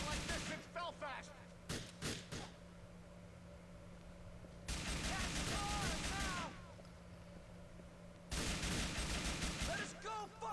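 Shootout with police in a subway in GTA IV, with dense bursts of gunfire in three loud clusters separated by quieter gaps, with voices shouting over the shooting.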